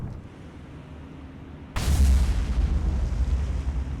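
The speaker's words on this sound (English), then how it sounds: "That wasn't a magazine explosion, it was just a normal explosion." A ship blows up in the naval combat game War on the Sea, a sudden loud, deep boom cutting in over a low rumble and rolling on as a sustained heavy roar.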